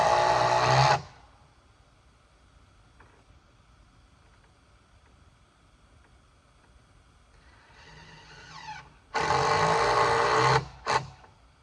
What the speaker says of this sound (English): So what I'm doing is securing the beam just with some 3-inch screws